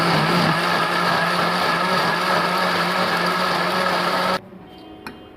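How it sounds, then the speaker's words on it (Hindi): A kitchen mixer grinder whirs loudly and steadily while grinding chili, garlic and tomato for ketchup, a dense high-pitched motor roar that cuts off abruptly near the end, leaving near silence. "और सारी इसमें केचप डाल दूँगी और इसे अच्छे तरीके से ग्राइंड करेंगे"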